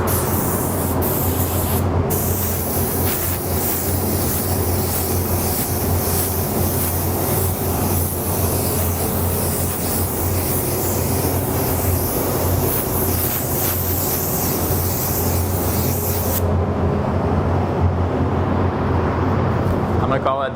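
A spray gun lays down an even coat of Createx candy paint in a loud, continuous airy hiss that runs for most of the stretch. It cuts off abruptly near the end, leaving a lower background rumble.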